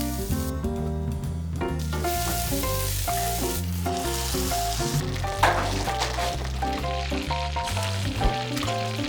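Shredded chicken meat filling cooks in a pan, a steady sizzle running beneath loud melodic background music for the whole stretch.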